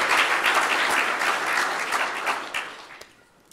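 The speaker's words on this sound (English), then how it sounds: "So let's give them a round of applause as well." A round of applause at a city's annual state-of-the-city address, dense clapping from a large audience that holds steady and then thins out and fades toward the end.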